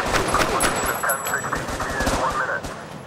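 Rapid bursts of automatic gunfire in Crisis Brigade crackle close and loud in a steady stream of shots, with a voice talking over the shooting.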